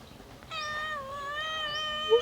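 A cat meows for milk in a long, drawn-out wavering cry that starts half a second in and holds steady, ending with a brief sharper rise, close and fairly loud over faint room noise.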